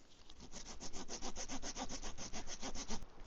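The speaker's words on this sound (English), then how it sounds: "Here's a fallen tree. Looks like could be a socket. I'm going to saw this." A hand saw works through a fallen tree branch outdoors in winter, a steady rhythmic rasp of fast, even back-and-forth strokes, close and continuous with no talking.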